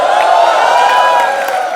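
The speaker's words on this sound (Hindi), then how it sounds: "नरगिस के लिए एक बार जोरदार तालियां हो जाए" Studio audience on an Indian TV comedy show cheering and applauding for actress Nargis Fakhri, a dense continuous roar of claps, whoops and crowd noise, loud and steady throughout.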